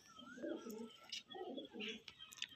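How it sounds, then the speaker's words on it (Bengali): Pigeons coo close by in soft, low, rolling phrases, two bursts in quick succession, with faint chirps and rustling around them. "চিনি ঠোঁটের পায়রা আছে"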